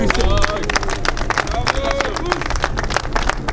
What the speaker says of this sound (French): Nous l'applaudissons.